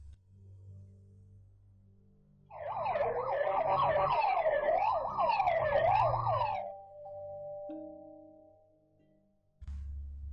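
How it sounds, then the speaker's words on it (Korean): A private tow truck converted from a regular car, its distinctive wavering siren sweeping up and down loudly for several seconds over a low rumbling exhaust, then cutting off as the engine drone drops and returns. "요란한 배기음과 특유의 사이렌 소리는 바로 사제차를 개조한 사설 견인차였어."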